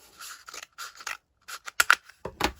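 Scissors snip through a cardboard toilet roll in a quick series of crisp, close cuts, with short pauses between groups of snips and a couple of louder bites near the end.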